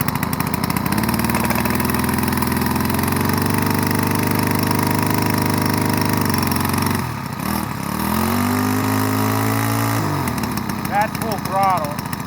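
A Craftsman 21/22-inch push lawn mower is started cold in spring, and its engine runs loud and steady, briefly dipping and surging before settling back to a high throttle drone, with a voice speaking briefly.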